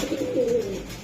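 Racing pigeons from a club loft coo in a short, soft, throaty burst, close by and alone with no talk over it.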